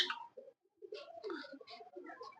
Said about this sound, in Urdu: یہ فواد بھائی یہ میرے فروز پوری کبوتر ہیں.